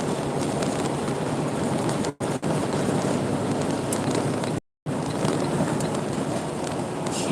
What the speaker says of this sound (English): Oh, you guys hear that wind?